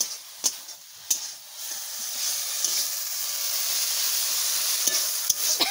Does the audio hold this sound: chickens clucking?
no